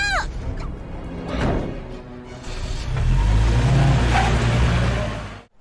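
A car engine revs and rumbles as the vehicle pulls away, swelling to a loud low roar before cutting off abruptly, with a high bird-like squeal at the start.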